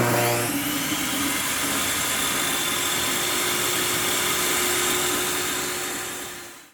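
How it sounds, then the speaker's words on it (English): A Ryobi 10-inch table saw runs at full speed with a steady loud whine and hum after a brief spin-up, sustained without load and winding down at the end, with no voices. "So first we'll start with the Ryobi 10-inch table saw."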